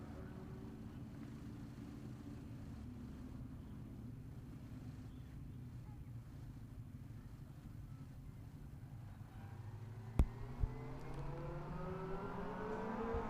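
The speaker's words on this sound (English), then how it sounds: "So the cars all coming through Park Ferme there." Racing cars rolling slowly through parc fermé after a race, a low steady engine drone with one car's rising whine and a couple of sharp clicks near the end, heard from a moderate distance.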